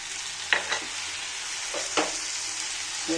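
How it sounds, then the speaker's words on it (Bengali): Onion, green chilli and tomato stir-fried in a pan, giving a steady low sizzle with a few sharp scraping strokes of a spatula spaced through it, close by with no talk. "একটু একটু ভালো করে নাড়াচাড়া করে ভেজে নেব"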